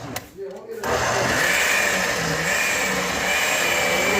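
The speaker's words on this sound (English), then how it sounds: "Blend up the green juice," A blender runs in a kitchen whirring asparagus into green juice, a steady loud motor drone that starts abruptly after a short pause and holds constant to the end.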